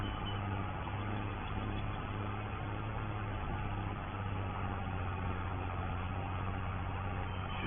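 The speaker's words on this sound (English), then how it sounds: "Going up this bit of a climb, making the tractor" A farm tractor's engine labors hard pulling up a climb, a steady low rumbling drone that holds constant and close throughout with no talking.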